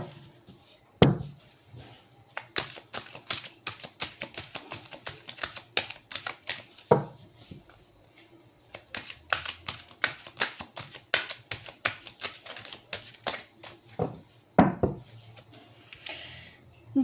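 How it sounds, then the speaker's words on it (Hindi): Tarot cards are shuffled by hand in a long run of quick, dry riffles and soft flicks with a few brief pauses and occasional sharper knocks, sounding close and fairly quiet without talk. "जब तक कि मैं आपके लिए कार्ड शफल कर रही हूँ"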